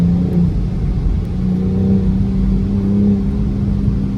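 A 2021 BMW M440i pulling hard under turbo boost, heard from inside the cabin as a loud, steady engine drone with a rising whir and no talk over it.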